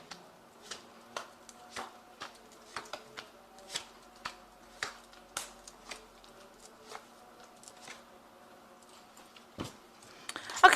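Ramses Tarot cards shuffle and snap in a quiet room, a string of sharp, regular card flicks and taps about every half second, close and crisp, ending in a louder clatter.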